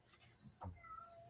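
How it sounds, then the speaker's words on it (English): A pet cat gives a single short, faint meow in the background of a quiet room, with a soft thump before it; no clear talking. "Somebody's cat's meowing."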